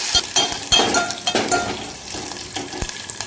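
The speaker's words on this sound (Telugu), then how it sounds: "పోపు అయితే ఏగిపోయింది." A tempering of crushed garlic, dry red chillies and curry leaves sizzles in hot oil in a pan, a steady close crackle broken by sharp scraping taps of a spoon stirring against the metal.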